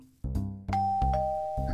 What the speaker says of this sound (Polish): Genialny dzwonek.